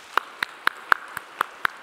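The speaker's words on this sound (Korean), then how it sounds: "우리 박수하도록 하겠습니다" Sparse, evenly spaced hand claps, about eight, ring out faintly in a church sanctuary as a congregation at Daegu Samdeok Church honours its retiring deacons during Sunday worship, with no talk over them.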